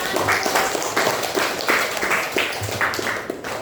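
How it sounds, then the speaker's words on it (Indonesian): Students get a round of applause at a school P5 project presentation, steady clapping from a small group lasting a few seconds at moderate loudness, with no voices over it. "di sini tepuk tangan bagi anak."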